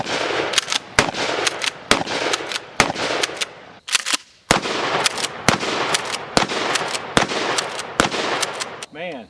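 A Mossberg 590 Shockwave shotgun with a ported barrel and SB Tactical brace fires Fiocchi buckshot, slugs and birdshot at a range: a long series of loud, sharp blasts in quick succession, closely spaced with brief gaps and ringing tails.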